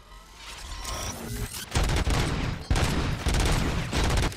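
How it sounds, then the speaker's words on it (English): Sustained rapid gunfire in the RoboCop: Rogue City video game, dense loud bursts with mechanical clanks starting after a brief build-up and continuing steadily. "Gunshots?"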